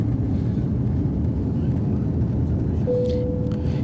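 A Biman airliner climbing after takeoff over Dhaka gives a steady, muffled low roar of engines that fills the whole stretch without letting up.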